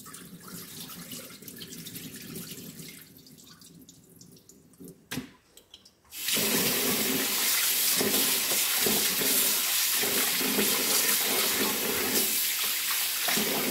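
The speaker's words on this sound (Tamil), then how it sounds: "பயரையும் சேர்த்து தான் நான் கழுவி எடுக்க போகிறேன்." Rice and lentils are washed in water in a home kitchen while making pongal. Soft sloshing and dripping give way to a loud, steady stream of running water for the rest of the time, with no talk.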